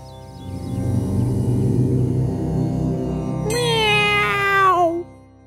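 A cartoon cat meows once, a loud, close, drawn-out cry that falls in pitch, rising over a droning animated background.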